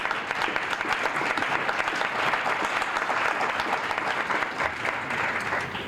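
An audience at a report release gives a round of applause, dense and steady clapping from a large crowd that holds throughout.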